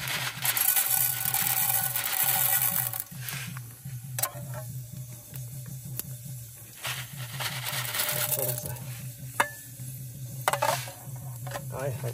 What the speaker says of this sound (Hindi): उसके लिए कुछ तेल गरम है, सबसे पहले ये डालेंगे पंचफुटन।